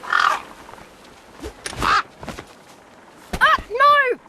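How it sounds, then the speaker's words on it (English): Birds in the video game Beyond a Steel Sky give several harsh, crow-like caws in uneven bursts, with footsteps and scuffling around them and no speech. "Damn birds!"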